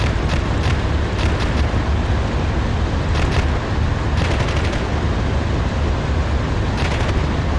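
A tank's anti-aircraft machine gun in DCS World fires continuously, a dense loud roaring stream of rapid shots layered over engine rumble, with a few brighter bursts standing out.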